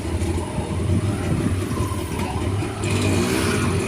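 Heavy Friday road traffic, with many vehicles crawling close by, gives a continuous engine rumble and idling drone, with one motor revving up nearby.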